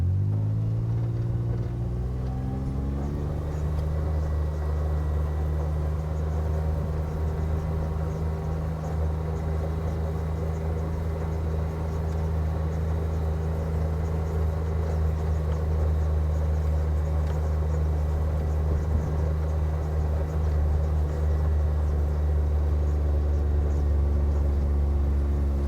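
A Gator utility vehicle drives across a field, its engine a steady, droning hum with a low rumble that holds evenly throughout, close and continuous, with no talk.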